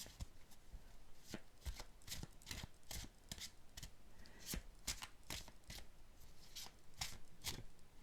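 Tarot cards are shuffled by hand in a steady run of quick riffling flicks and taps, close and fairly quiet, continuing throughout without speech.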